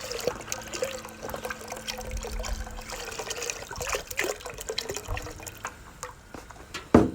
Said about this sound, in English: I'm gonna add beef broth. I'm gonna go for 6 cups.